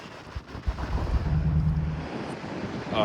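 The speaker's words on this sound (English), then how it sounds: "Look at that ocean." Ocean surf rolling onto a sandy beach on a bright day after rain, a low, continuous wash of breaking waves with heavy wind buffeting the microphone.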